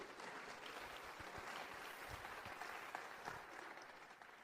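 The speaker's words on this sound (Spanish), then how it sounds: "Dense un aplauso." Steady applause from an audience at a lecture, dense and even with scattered louder claps, fairly quiet and continuing throughout.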